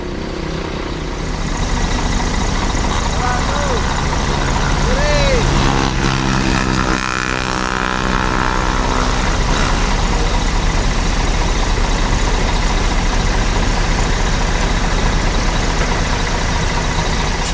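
A diesel bus engine on a Jakarta-to-Padang trip runs with a loud, continuous low rumble, close and steady throughout, with brief faint chirps over it and no clear talk.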